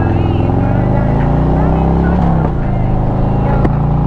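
A Harley-Davidson Road Glide motorcycle cruises at about 50 mph and 3,500 rpm, its engine a loud, steady low rumble with heavy wind noise close to the rider, with a voice heard briefly.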